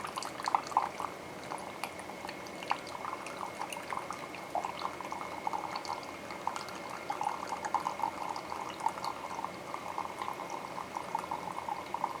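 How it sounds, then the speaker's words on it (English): Water drained from a rice pot pours and splashes continuously with bubbling, gurgling sounds for several seconds, close up and moderately quiet. "I'm going to drain some of that water off."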